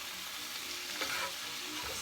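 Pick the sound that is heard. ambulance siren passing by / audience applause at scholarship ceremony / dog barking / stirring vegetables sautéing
stirring vegetables sautéing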